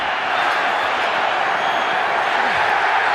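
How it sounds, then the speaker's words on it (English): A packed football stadium crowd at an NFC Championship game between the Vikings and Giants in New York, a steady, loud roar of cheering with a commentator's voice running over it. "Listen to this crowd."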